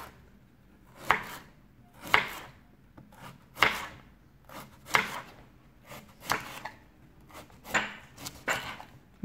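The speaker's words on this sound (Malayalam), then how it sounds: "ഇനി ഇനി ക്യാരറ്റ്. ക്യാരറ്റ് അരിയുമ്പോൾ സൂക്ഷിക്കുക." A knife chopping carrots on a cutting board, about eight distinct, evenly spaced chops with quiet pauses between them, close and clear with no talking.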